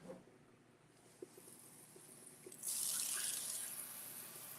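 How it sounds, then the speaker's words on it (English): Tap water gushes into a sink or bowl to cover sliced eggplant, starting after a few faint clinks and then running steadily and loud, close by, with no talking. "we want to make sure that we get these completely covered with water"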